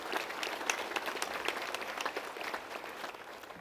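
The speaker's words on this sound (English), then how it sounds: "Let's give them a round of applause" Audience applause at a homecoming welcome for the 10th Mountain Division, steady dense clapping from a crowd, moderately distant and even throughout.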